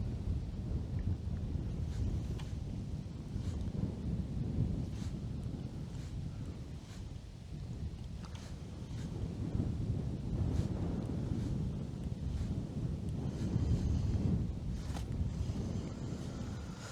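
Steady outdoor wind on the Dnipro River rumbles and buffets continuously, a low broadband roar with gusts swelling and easing, no voices.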